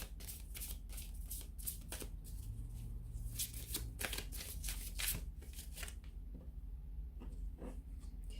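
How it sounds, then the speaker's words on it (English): Angel Answers oracle cards are shuffled repeatedly, a rapid rustling flutter of riffles and slaps close up, steady for several seconds with no talking. "I'm going to give the Angel Answers card a shuffle here"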